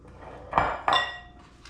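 A bigger bowl being handled while preparing steak tips gives two close, sharp clinks of dishware knocking together, followed by a fainter clatter, with no talk.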